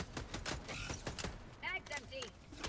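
A weapon reloads in the video game Helldivers 2, a few quick mechanical clicks and clacks, mixed with distant gunfire and chirpy electronic effects, while people talk over it.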